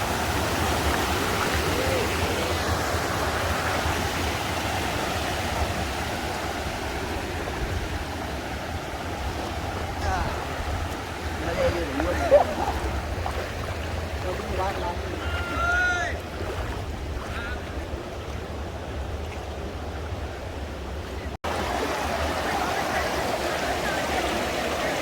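Stream water flows in Polo Forest as a constant rushing wash that holds steady and fairly loud throughout.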